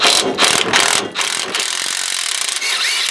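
Rapid ratchet clicking from a ratchet wrench turning out a rear shock bolt on a Nissan Titan pickup, close and loud, in quick bursts with brief pauses between strokes.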